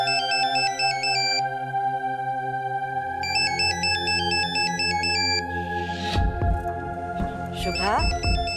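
A mobile phone rings in a Marathi TV serial scene, a looping electronic ringtone in repeated bursts that sounds loud and close, with music underneath and a voice cutting in near the end.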